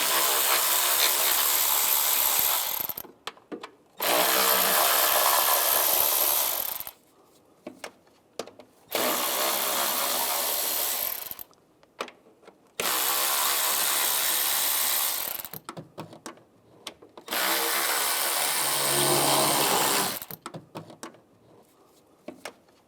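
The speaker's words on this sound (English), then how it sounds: "Now I'll take these bolts out on the top and on the bottom of the intake, use an 8mm socket." Intake bolts being removed with an 8mm socket on a 2011-2018 Ram 1500 3.6L V6, heard as four loud, close bursts of rapid ratcheting or power-tool whirring, each a few seconds long, separated by short pauses with faint handling clicks.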